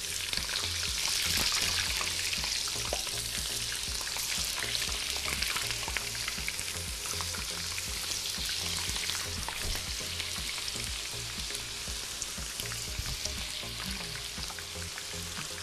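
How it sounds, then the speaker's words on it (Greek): Potatoes sizzle steadily in hot oil in a frying pan, a dense continuous crackle with occasional stirring and clatter, close and even throughout. "Ξεκινάω να τηγανίζω τώρα τις υπόλοιπες."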